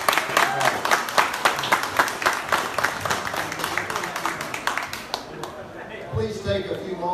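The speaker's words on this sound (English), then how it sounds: "round of applause." An audience at a museum exhibit opening claps steadily for several seconds, the applause gradually thinning out while voices and room chatter come up underneath.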